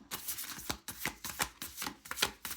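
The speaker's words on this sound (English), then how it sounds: "I don't know why I'm shuffling in front of the camera for you." Tarot cards are shuffled by hand in quick repeated riffles, crisp papery bursts in a steady rhythm, close and fairly quiet with no voices.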